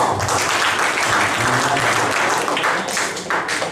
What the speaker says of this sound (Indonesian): Ya, tepuk tangan dulu lah, tepuk tangan.